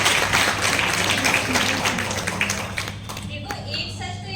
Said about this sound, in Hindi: जोरदार तालियों से उसका स्वागत करें